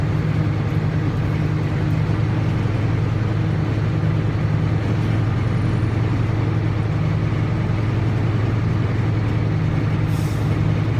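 A truck engine runs steadily at idle to build air brake pressure during a CDL in-cab air brake check, a constant low drone with no break from start to finish.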